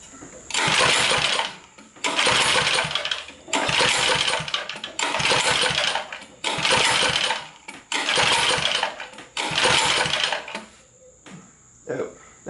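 A 1970s Sears generator engine on full choke gets about seven rhythmic cranking bursts, each a loud rough churn of about a second, separated by short pauses, and it never settles into a steady run.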